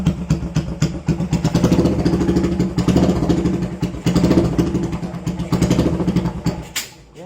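Custom motorcycle engine revved repeatedly by hand throttle, loud and close, rising and falling in pulsing bursts with a lumpy mechanical clatter before dropping away at the end.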